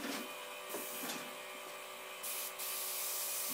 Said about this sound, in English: I think I'm going to have to kick the compressor on to get this yellow to atomize properly.